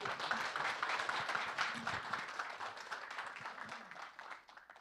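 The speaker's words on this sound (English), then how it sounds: "Let's welcome Bob with a great applause" Audience applause welcoming a lecturer to a Nobel laureate lecture, a steady dense wash of clapping from a large crowd that tapers slightly toward the end, with faint voices underneath.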